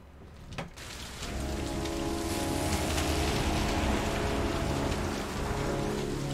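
Steady rain falls on a surface in the video game Heavy Rain, a dense continuous hiss that sets in after a brief quieter start and carries on evenly, with no talking over it.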